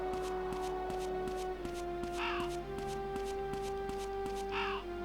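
A crow caws twice in the video game Mizzurna Falls on a PS2 with an audio glitch that pitch-shifts the sound, each short raspy call set over a steady droning hum and rhythmic ticking background.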